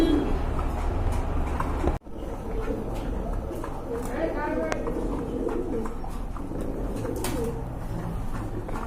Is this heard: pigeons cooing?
yes